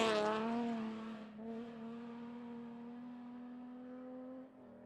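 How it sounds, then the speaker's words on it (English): A Lexus V6 rally car runs at the 2019 STPR rally near the Waste Management jump. It produces a faint, sustained engine drone that holds one pitch and then trails off, heard from a distance. "That V6 in that Lexus with Michael Hooper."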